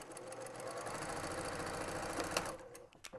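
A sewing machine stitches a quilt seam for an optical-illusion checkerboard quilt, its steady mechanical whir running close and continuous for about two and a half seconds before slowing and stopping with a few faint clicks.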